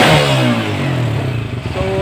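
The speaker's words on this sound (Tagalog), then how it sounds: "so bali umandar na po itong motor po natin" A motorcycle engine runs steadily and smoothly after a repair of a crushed clutch bearing, a close, loud continuous idle with a faint mechanical clatter and no talking.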